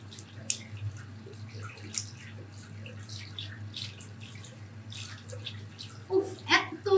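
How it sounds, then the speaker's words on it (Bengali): Hands are rinsed under running tap water, a soft steady splash and trickle with occasional drips, while a voice talks intermittently over it. "হাতও কিন্তু ধুয়ে দেখাচ্ছি"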